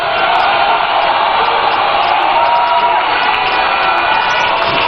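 A large crowd at an NDC party manifesto launch in Ghana cheers and claps loudly, a constant roar of voices and applause sustained throughout.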